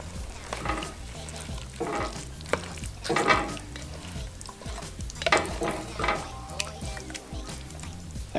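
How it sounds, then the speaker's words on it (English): Spices and tomato sauce are stirred into chili cooking in a pot, with a steady faint sizzle under repeated scraping strokes of a spoon against the pot, close and moderately loud, no talk. "All right, so we'll mix in our spices."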